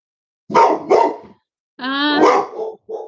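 Dog barking close by, two sharp barks followed by a longer, drawn-out bark and a final short yelp, loud against silence.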